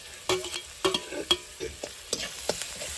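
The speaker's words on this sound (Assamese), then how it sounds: "এইখিনি আদা নহৰু কেঁচা গোন্ধখিনি যোৱালৈকে অকণমান ভাজি ল'ম" Ginger garlic paste fries in a pan, a soft sizzle broken by repeated sharp scraping stirs of a spatula at an irregular rhythm, close and clear with no talking.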